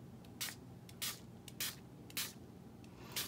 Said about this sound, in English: our final step for this paper is going to be some champagne mist shimmer paint mixed with rubbing alcohol